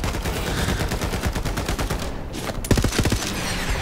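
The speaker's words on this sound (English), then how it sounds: "I love this gun, this assault rifle." Sustained assault rifle fire in the video game Borderlands 3, loud dense automatic bursts with brief gaps and a sharp cluster of shots near the end, no talking.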